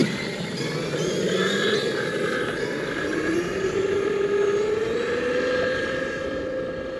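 Traxxas Xmaxx RC truck on 8S power with Sledgehammer tires running flat out, a steady loud motor whine rising in pitch over seven seconds with continuous drivetrain and wind roar.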